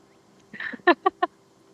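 A person imitates a rooster's crow with their voice: a drawn-out note followed by three quick, clipped syllables, close and fairly quiet.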